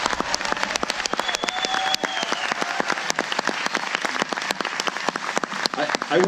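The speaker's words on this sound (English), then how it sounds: "Can you show it with applause?" Sustained audience applause at a film festival Q&A for The Shape of Water at Telluride, dense clapping filling the room steadily throughout, with a couple of faint whistles over it.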